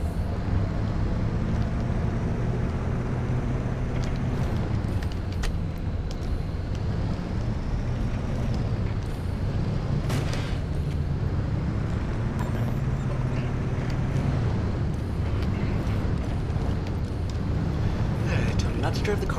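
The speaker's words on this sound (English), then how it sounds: "I tell you not to drive the car on the railroad track" Car driving in the video game Pacific Drive, a steady low engine and road rumble with wind noise running unbroken throughout, with a voice talking over it.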